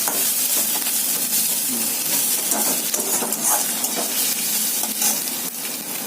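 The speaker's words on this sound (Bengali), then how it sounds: "এবার আলু এবং গাজর যেটা ম্যাশ করে রাখা ছিল ওইটা দেবে।" Mashed potato and carrot fry with dried chillies in a pan for a masala dosa filling, giving a loud, continuous sizzle with stirring scrapes and hiss throughout and no talking.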